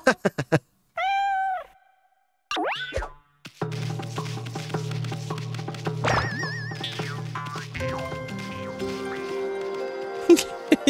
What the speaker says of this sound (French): Ah bah oui, c'est un chat